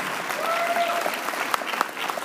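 An audience at a Libertarian convention applauds Adam Kokesh, a sustained wash of crowd clapping with a few sharp individual claps and a brief whistle-like tone rising above it.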